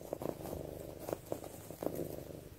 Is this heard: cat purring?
yes